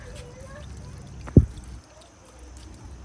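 Water at a natural waterfall, heard as a low, quiet rush with one brief, sharp splash as a hand touches it, then the gentle wash carries on.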